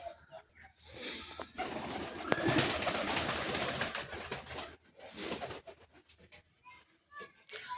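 Pigeons cooing in a loft, including a male, with low throaty coos swelling through the middle and softer calls before and after, close by amid faint background chatter of children.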